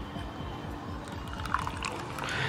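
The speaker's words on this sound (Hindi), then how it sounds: "चलो गाइस अब अपन इसमें डालने वाले वार्म वाटर, ठीक है। थोड़ा कुनकुना पानी रहेगा उसको डाल देते" Warm water being poured into a Fevicol glue slime mixture, a steady low pouring and trickling that runs throughout at moderate level.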